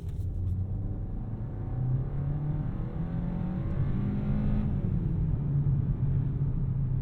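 A Kia K4 GT-Line turbo hatchback accelerating hard from inside the cabin, the engine note rising through the gears in a loud steady rumble with a brief lift mid-pull, no talking over it.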